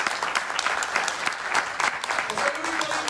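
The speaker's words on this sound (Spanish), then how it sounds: "denle palmas al Rey si están contentos" A church congregation claps together in a steady burst of applause, dense and continuous, with voices mixed in beneath it.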